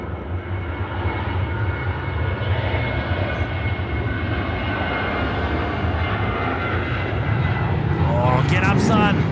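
An airliner takes off at night from Sydney Airport, its steady, loud engine roar filling the whole stretch with little change in level. Faint chatter from nearby spotters sits beneath it.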